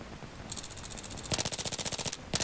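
Rapid automatic gunfire in the video game Battlefield 3: a short burst, then a longer, loud, evenly pulsing stream of shots, and a final brief burst at the end.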